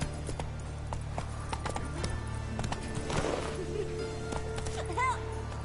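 Roach the horse gallops in The Witcher 3, hooves clip-clopping steadily through game ambience, with a brief whinny near the end and a voice talking over it.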